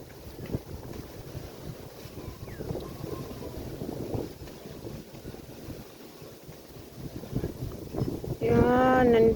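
Wind buffets the microphone in a steady, rumbling rush at a hilltop cafe, growing louder toward the end, with faint voices in the background.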